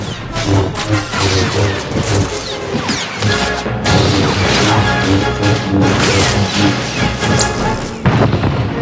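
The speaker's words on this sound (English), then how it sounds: "the trooper hits Iron Fist with a cryo grenade" A cryo grenade explodes during a Star Wars: The Old Republic battle, heard as loud, dense booms and crashing impacts layered over continuous game sound with no quiet gaps.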